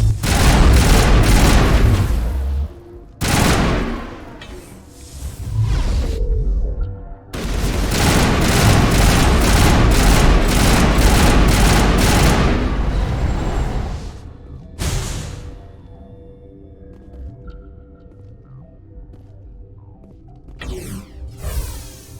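Loud bursts of rapid gunfire in a firefight in Mass Effect on Rift Station, Noveria, coming in several long volleys separated by brief gaps, then trailing off into quieter scattered shots and distant booms.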